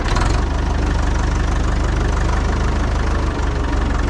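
Loud, close Massey Ferguson 65X tractor engine chugging with a steady low diesel throb, revving slightly as it moves off.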